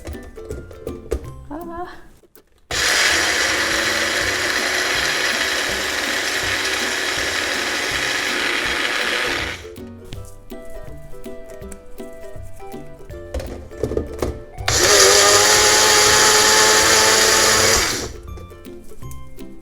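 A loud electric grinder roars in two long bursts, whirring harshly as it pulverizes dry roasted soybeans into flour, with quieter rattling and some talking in the pauses between.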